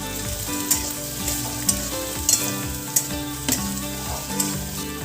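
Chopped onion and green chillies fry in hot oil for a fenugreek-leaf dish, giving a steady close sizzle broken by several sharp spoon clinks and stirring scrapes against the pan, with no voice.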